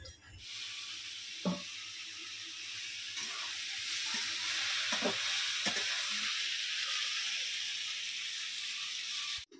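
Vegetables sizzling in hot oil in a home kitchen, a constant bright crackling hiss throughout, broken by a few soft knocks of a utensil against the pan.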